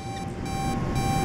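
Security alarm beeping inside a facility in the video game Starfield, a steady electronic tone repeating in short pulses over a low background hum, with no talk.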